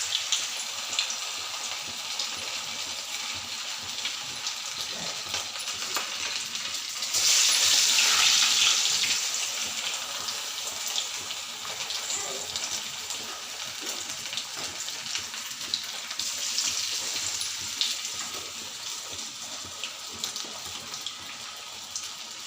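Fish kabab pieces fry in hot oil with a steady, close sizzle and bubbling hiss that lasts throughout and swells briefly as a piece goes in; no one speaks.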